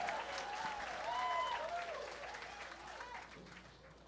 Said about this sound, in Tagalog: lakas ng palakpak ah